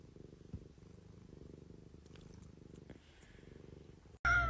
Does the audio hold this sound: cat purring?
yes